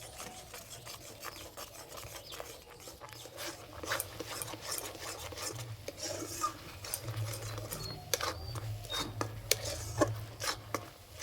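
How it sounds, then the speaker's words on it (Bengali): A spoon scrapes and rubs steadily around a pan of thickening carrot kheer, an irregular run of soft grating strokes with occasional clinks, fairly quiet and close. "গাজর দেওয়ার পর সবসময় এইভাবে নাড়তে হবে"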